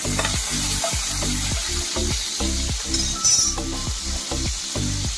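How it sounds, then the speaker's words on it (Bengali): Cashews, raisins and green peas with spices and bay leaves stirred and fried in a pan, a loud close sizzle under a rhythmic run of repeated scraping stirs. "কাজু, কিশমিশ আর মটরশুঁটি দিয়ে আমি একসঙ্গে এগুলোকে একটু নেড়ে নিচ্ছি।"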